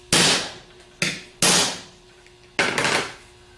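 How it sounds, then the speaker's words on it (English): A hammer hits a 3/4 socket set on an AD series GM alternator clamped in a vise, giving four loud, sharp, ringing metallic strikes at uneven intervals, each decaying quickly, with no talking. "Then take a 3/4 socket and give it 2 hard smacks"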